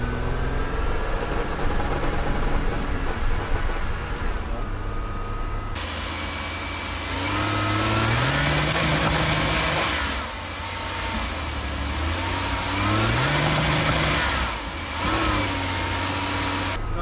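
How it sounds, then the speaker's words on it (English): A Chevy Astro van's engine idles, then revs hard at full throttle twice, each surge rising and falling in pitch, loud and close with no talk over it. "Alright, here we go, full throttle."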